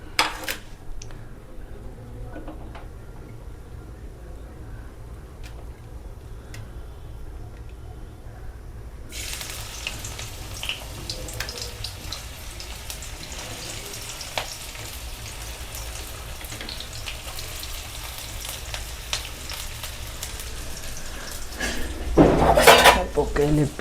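Onions fry in hot oil in a pan. A quieter start with light clinks gives way to a loud, continuous sizzle, and clattering utensil knocks follow near the end.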